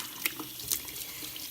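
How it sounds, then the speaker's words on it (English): A tap runs steadily into a sink as hands are washed, a close, continuous hiss of flowing water with a few brief splashes and no talking. "You're gonna want to wash your hands."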